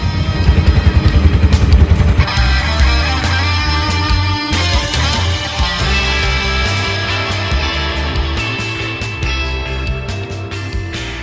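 An auto rickshaw ride toward Somnath, its engine giving a steady close rumble that pulses more strongly in the first seconds, with music playing loudly over it throughout.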